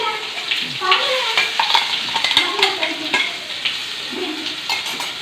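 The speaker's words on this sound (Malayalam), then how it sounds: "ഇഞ്ചി പച്ചമുളക് പേസ്റ്റ് ഇട്ടേ അമ്മ അതിൽ" Ginger and green chilli paste with mustard seeds frying in a pan for a home chicken curry, giving a steady close sizzle with scraping stirs and faint utensil clinks, while voices murmur softly in the background.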